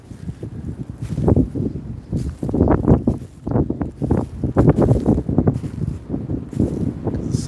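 Strong gusting wind outdoors in the woods near an abandoned house, buffeting a handheld microphone in loud, uneven rumbling bursts with rustling through the trees.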